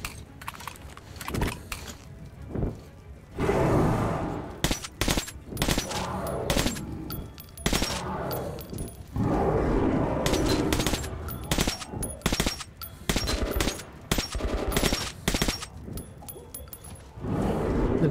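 Bursts of rapid automatic gunfire in the video game Metro 2033, loud rattling volleys separated by short pauses, with clicks and mechanical handling noises between them.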